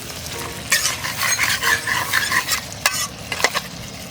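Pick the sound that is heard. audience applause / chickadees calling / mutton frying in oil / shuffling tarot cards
mutton frying in oil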